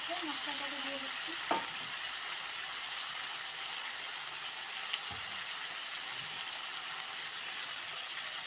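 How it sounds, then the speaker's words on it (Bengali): Spice masala stirred into frying vegetable stems and potatoes in a pan: a continuous close sizzle with a couple of brief knocks of the spoon against the pan, no voices. "ডাটা আলু ভাজা হয়ে গেছে, মশলাটাকে দিয়ে দিচ্ছি।"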